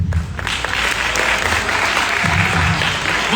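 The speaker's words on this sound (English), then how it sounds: "One last round of applause for Union and all of the participants" An audience applauds after a student speech contest at IPEKA, a dense, steady burst of clapping that fills the whole moment at close range.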